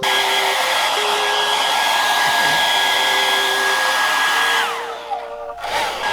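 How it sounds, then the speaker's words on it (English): A heat gun blows a steady, loud whooshing roar while warming a new decal sticker on a supermoto motorcycle, its pitch shifting slightly near the end as it winds down. "He's using the heat gun to make the sticker a bit flexible"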